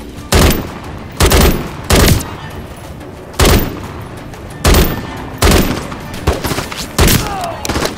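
Enemy gunfire in a Call of Duty MW3 campaign mission, loud separate bursts of shots cracking out about once a second, each short and sharp, with a lower rumble of ambience between them.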